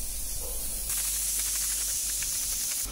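Pressure cooker cooking chana dal, its steam hissing in a kitchen; a faint background hiss swells abruptly into a loud, sustained rushing jet of steam that continues to the end.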